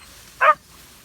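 A single short dog bark rings out once in a forest during a pest hunt in the hills of Solok, West Sumatra, moderately close against a quiet background.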